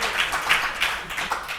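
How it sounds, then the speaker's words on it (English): Audience hands clapping together at a motivational speech event, a steady patter of many claps spread evenly across the moment, moderately loud with no voices over it. "Clap your hands like we're going to make a big difference."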